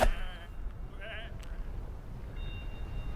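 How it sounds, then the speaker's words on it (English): Sheep bleat in the PC game Whateverland, a couple of short nasal calls near the start, followed by quieter ambient game sounds. "Come on, these are just sheep."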